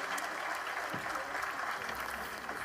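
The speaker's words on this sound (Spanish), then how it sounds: "Un aplauso" Sustained applause from a concert crowd for a rock act and a chamber orchestra, a thick, even roar of clapping that holds steady throughout.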